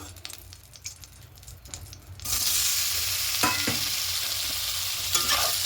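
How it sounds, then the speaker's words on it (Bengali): Paneer pieces hit hot oil: a few quiet scrapes and taps, then a sudden loud hissing sizzle that holds steady to the end, with spatula strokes poking through. "একটু হালকা করে পনিরগুলো ভেজে দেবো।"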